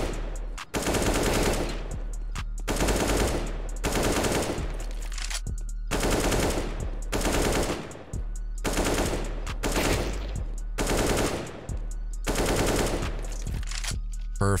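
Rapid rifle gunfire from the video game CS:GO, loud automatic bursts repeating in a steady rhythm with brief pauses between each volley.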